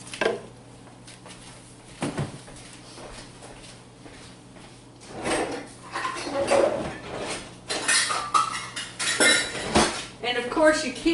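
A spoon stirs sugar into a pot of boiling wild plum jelly, with repeated clinks and scrapes of metal against the pot that grow busier and louder toward the end.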